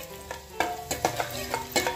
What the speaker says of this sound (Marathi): लसूण थोडा परतून घेऊया आपण.